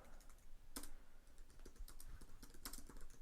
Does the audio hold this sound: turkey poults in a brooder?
no